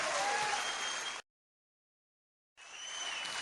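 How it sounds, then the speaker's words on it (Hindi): An audience applauds loudly at a business gathering, a dense wash of clapping that cuts out abruptly to silence and then resumes just as full. "आप सब लोग जोरदार ताली इसलिए बजाएं"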